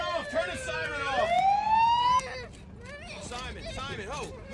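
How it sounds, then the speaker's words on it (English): A wailing siren rises and sweeps loudly for about two seconds, then fades into background chatter and voices. "Turn the siren off!"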